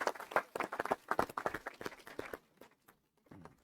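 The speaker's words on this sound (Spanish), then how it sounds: "pido un aplauso para el magistrado por su presentación." A small audience at a jurisprudence seminar claps for a magistrate, scattered close hand claps that thin out after about two seconds into near silence with a faint murmur at the end.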